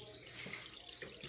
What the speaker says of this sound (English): with this canister filter and the splash bar, the water that comes down into the tank